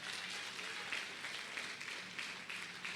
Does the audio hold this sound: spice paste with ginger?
no